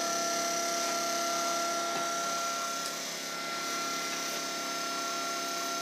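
A steady 24-volt electric motor whines continuously with a bright tonal hum, its pitch dipping slightly midway as it strains under load.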